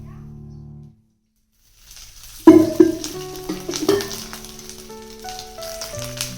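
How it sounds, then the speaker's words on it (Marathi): Coconut roasting in a pan with a little oil, with a brief quiet pause before a burst of sizzling and frying, then steady crackling punctuated by spoon clinks against the pan. "खोबरं भाजताना थोडं तेल टाकायचं"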